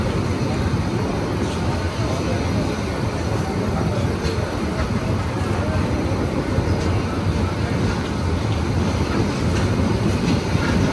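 A crowded Bangladeshi passenger train rolls along the rails, its broad, constant rumble and rattling filling the space without a break.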